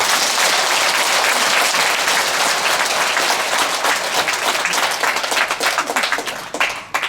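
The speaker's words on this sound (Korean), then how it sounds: "박수로 맞이해주십니다" Loud, dense applause from a studio audience at a year-end special radio talk broadcast, steady and sustained before tapering off near the end.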